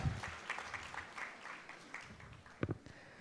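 Scattered, fairly faint applause from an audience at a conference, with a brief louder burst of clapping near the end.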